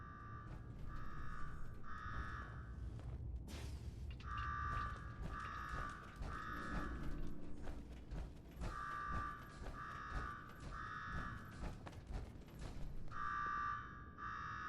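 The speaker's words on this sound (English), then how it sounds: "Now go shut off that damn alarm" A repeating two-tone electronic alarm beeps in regular pulses in the Fallout 4 video game, sounding over a low mechanical rumble and ratcheting machinery, with a short pause partway through.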